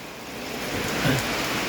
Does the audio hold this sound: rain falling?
yes